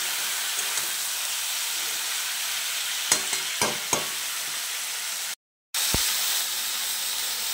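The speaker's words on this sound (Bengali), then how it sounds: "সবজিগুলো তুলে দেবো, দিয়ে একটু সবগুলো একবার করে ভেজে নেব।" Continuous hissing sizzle of mixed vegetables frying in a pan, with a few clinks of stirring and a brief silent gap.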